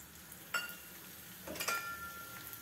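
Mustard seeds in hot oil for an onion gravy make a faint sizzling hiss, broken by a few sharp, scattered pops and crackles, with no talking.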